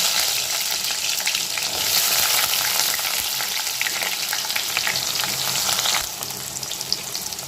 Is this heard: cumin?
yes